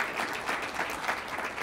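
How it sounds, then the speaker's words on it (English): An audience at an all-hands university meeting claps together in a brief, even burst of applause that fills the room, without voices standing out. "let's give Archie a round of applause"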